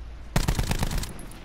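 A rapid burst of automatic gunfire from the Black Ops 4 video game fires about ten close, sharp shots in quick succession and then stops abruptly.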